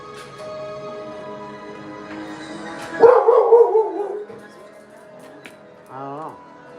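A dog barks from underground in a thawing, snowy outdoor spot, letting out a loud cluster of barks midway and a short burst of high yips near the end over low background noise.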